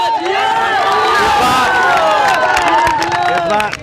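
A dense crowd of supporters at a village headman nomination fills the air with loud, constant babble of many voices and shouting, close and overlapping throughout.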